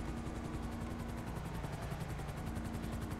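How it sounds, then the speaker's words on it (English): A helicopter in the GTA video game hovers right overhead, its rotor chop beating loud and steady throughout under a dense, roaring engine wash. "it's definitely suspicious with a big ass helicopter just flying right above him"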